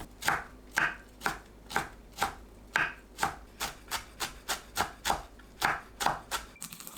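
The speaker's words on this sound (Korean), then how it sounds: "뭉친 곳을 풀고 작게 썰어주세요." Blanched aster greens (chwinamul) being chopped small with a knife on a cutting board, a close, even run of about fifteen crisp knife strikes with no talking.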